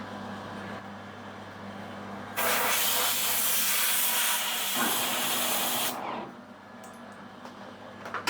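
Compressed air blasting out of a steam waggon plug in a workshop: a loud, steady broadband hiss lasting several seconds, starting and stopping abruptly over a quieter mechanical background hum.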